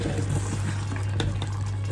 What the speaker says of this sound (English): Oh, I can hear that bubbling.